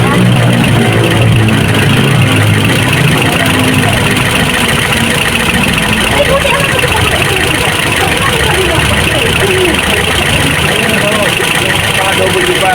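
A Toyota Vios VVTi car engine runs at a steady loud idle close by, a continuous drone throughout with people talking over it.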